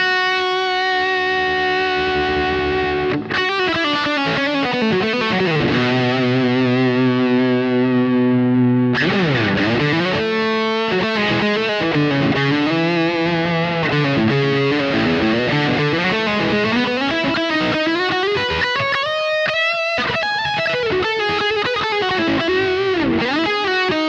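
Electric guitar played through a Laney Ironheart amp simulation plugin, heavily distorted, with sustained chords and then riffing and single-note lines. The playing is loud and continuous, with no voices.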